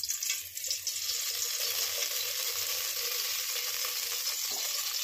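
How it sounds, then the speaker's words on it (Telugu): Oil sizzles steadily in a hot pot set out for oats upma, a continuous close frying hiss that runs the whole time with no voices. "కొద్దిగా నూనె వేయవలను"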